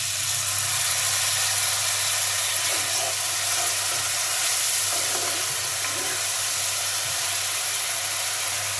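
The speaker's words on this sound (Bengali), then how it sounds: "একটু নারকেলের দুধ দিয়ে দিচ্ছি।" Duck curry sizzling and frying in a pan as coconut milk goes in, a steady close hiss with gentle stirring and no voices.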